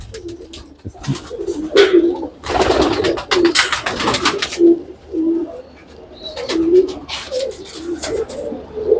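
Allahabadi pigeons coo repeatedly in soft, low rolling calls, with a burst of wing flapping and rustling partway through.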